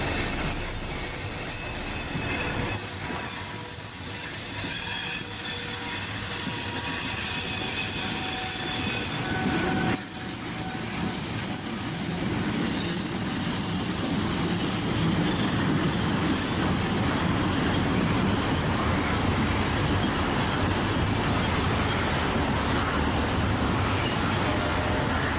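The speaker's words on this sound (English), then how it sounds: "Here, the 3 EMDs are in full dynamics as they take this train down the grade towards the bottom of the hill" Coal train on a model railroad layout, pulled by three EMD locomotives in full dynamic braking down a grade, rolls past with steady rumbling wheels, squealing flanges and clicking rail joints, loud and continuous throughout with no talk.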